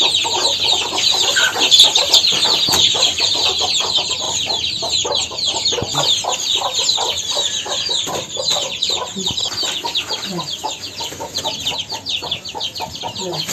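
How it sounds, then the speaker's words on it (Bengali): Hens cluck continuously, close by, mixed with a dense chorus of high-pitched chick peeps as the chicks are let out in a village. "আমাদের কিউট কিউট মুরগির বাচ্চাগুলো এখন ছেড়ে দেওয়া হবে"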